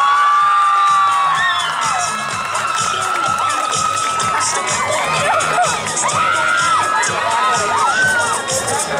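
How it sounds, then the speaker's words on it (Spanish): A crowd cheers and applauds a contestant, with excited shouting, whoops and high children's voices in a loud, continuous din. "Un fuerte aplauso para este concursante."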